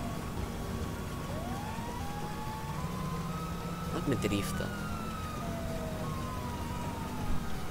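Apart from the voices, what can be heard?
police car sirens in video game GTA V Online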